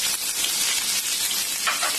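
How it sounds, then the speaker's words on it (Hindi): Ginger and spices sizzle and crackle in hot oil for a tempering, a dense, loud, bright frying hiss that runs steadily throughout with no talking. "मेरा सारा मसाला कड़क रहा है"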